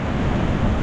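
Steady wash of sea waves breaking on a sandy beach, broad and continuous with wind rumble over the microphone, no voices.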